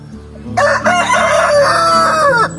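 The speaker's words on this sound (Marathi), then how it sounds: "कोंबडा आहे" A large rooster lets out one loud, close crow lasting about two seconds, rising sharply and holding steady before cutting off, with no other sounds over it.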